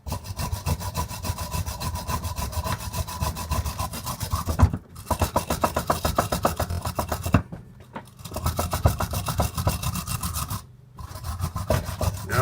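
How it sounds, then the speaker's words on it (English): A hand-held wooden wire brush scrubs a metal bolt in fast, rhythmic back-and-forth strokes, close and harsh, pausing briefly a few times. "I'm going to clean it up a little bit. Here with my wire brush."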